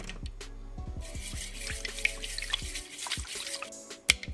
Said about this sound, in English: I can bring the water for washing the plastic parts